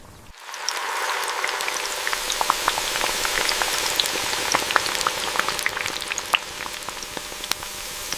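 Dense, steady sizzling and crackling of potato slices frying in hot oil on a chip factory line, with a continuous hiss and scattered sharp pops throughout, no talking.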